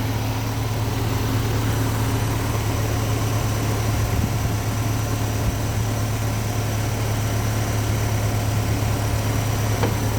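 Engine of a Splash Sport Danger Ranger idling just after a first start with a new ECU, a steady, even low hum with a constant drone and no change in pace.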